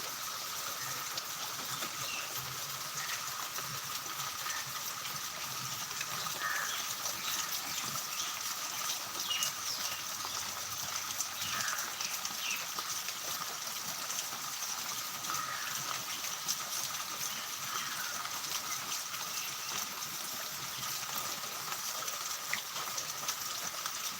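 Heavy rain falls steadily in Chidambaram as a constant, dense wash of noise that holds even and unbroken for over twenty seconds.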